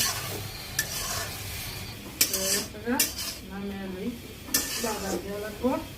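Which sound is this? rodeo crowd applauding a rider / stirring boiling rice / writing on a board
stirring boiling rice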